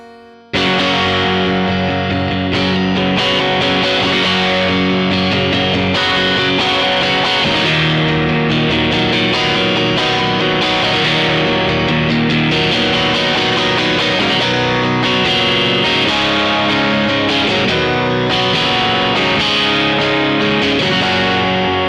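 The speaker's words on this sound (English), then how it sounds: "If I turn on the plate reverb, turn the volume up full first on the guitar for tonight." Electric guitar with the volume turned up full, run through plate reverb on a Line 6 HX Effects unit, playing continuous loud driven chords and notes with a dense, sustained wash throughout, no talking.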